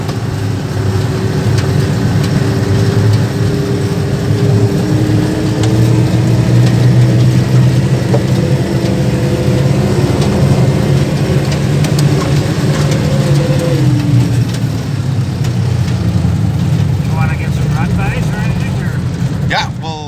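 A vintage Bombardier snow vehicle with a V8 engine driving by, a loud, steady engine drone with a rising and falling tone, heard close throughout with voices talking over it.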